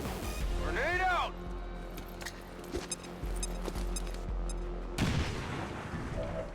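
A grenade blast and gunfire from XCOM 2 on a nightmare tactical mission: a loud boom with crackling debris, scattered sharp shots, and another heavy burst near the end, with voices talking over the battle.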